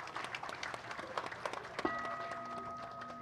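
Audience clapping at a Buddhist homa fire ceremony, with scattered, fairly distant claps for a little under two seconds, followed by a sustained ringing tone that holds to the end.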